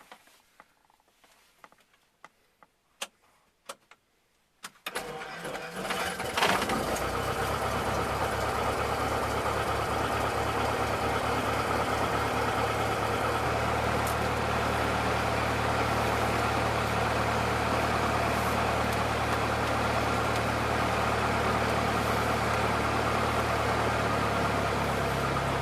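A training aircraft's engine at a flight academy: a few clicks and starter ticks, then the engine catches and settles into a loud, steady idle with a low drone that continues unbroken.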